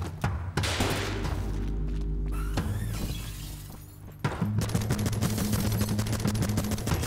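Gunfire in the video game Ape Out: dense rattling bursts and booming hits over a loud game soundtrack, continuous and close with rapid repeated shots in the latter half.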